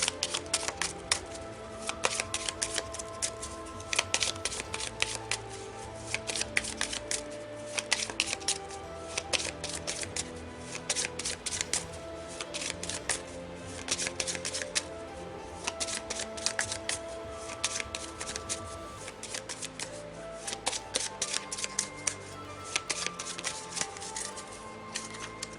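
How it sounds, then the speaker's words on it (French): Tarot cards are shuffled by hand, close and quiet, in repeated riffling bursts of crisp flicks and taps with short pauses between them. "Je commence à battre les cartes et à vous donner la réponse."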